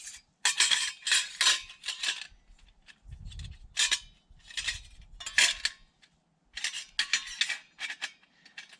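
Metal clinks and rattles come in bursts as a collapsible metal camp stove is unfolded and set up outdoors. The sharp, close clatters are spaced by short pauses, with a dull low thump near the middle.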